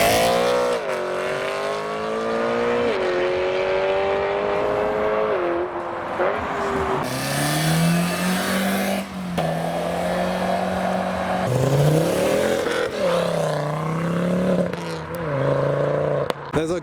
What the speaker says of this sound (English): Another loud BMW E92 M3 with a Golf R first.